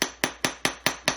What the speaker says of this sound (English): I'm just going to hammer the end